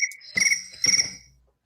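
Crickets chirp in two distinct bursts, each a sharp trilling pulse close and clear, against an otherwise quiet background that fades out at the end.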